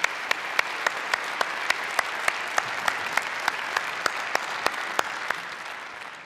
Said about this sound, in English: we all would want to applaud everyone who participated tonight